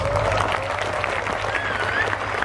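Steady crowd applause rises from the audience at a live Gus Miftah religious talk in Kebonsari, a dense continuous patter of clapping over a low hum.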